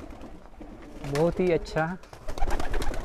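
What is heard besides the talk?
pigeons cooing at a pigeon sale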